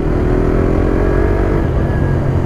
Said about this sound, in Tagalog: Ganda ng tunog ng makina, guys.